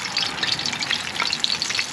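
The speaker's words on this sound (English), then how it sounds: "we're going to cook Mom's bluegills right now with just Drake mix" Bluegill fillets in a Drake mix dry rub with no egg wash frying in hot oil, a steady dense crackling sizzle with popping bursts, close and continuous throughout, with no talking.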